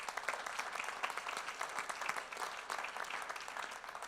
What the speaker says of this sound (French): que vous pouvez chaleureusement applaudir parce que certains sont présents